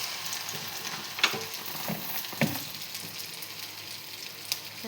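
Masala-coated jackfruit pieces fry in hot oil with a soft, continuous sizzle, marked by a few faint clinks and spatters.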